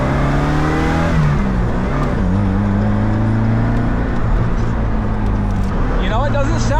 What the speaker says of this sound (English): You know, it doesn't sound bad for a 4-banger.